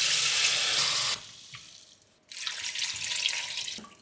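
Water from a tap runs into a saucepan to cover meat, a bright, steady splashing stream that stops briefly and then starts again, loud and close, with no talking.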